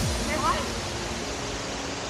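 Chinthala Madara waterfall at Tiryani, Telangana, pours with a steady, broad rushing roar that stays even and unbroken throughout.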